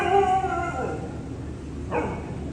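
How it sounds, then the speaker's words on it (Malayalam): Street dogs at Thiruvananthapuram airport terminal give a fairly close run of yelping, whining barks in the first second, then a second sharp bark near the end over steady ambient noise. "വരുന്ന യാത്രക്കാരെ സ്വീകരിക്കാനും യാത്ര അയക്കാനും സദാ 20ഓളം വരുന്ന തെരുവ് നായ്ക്കൾ ഇവിടെ സജീവമാണ്"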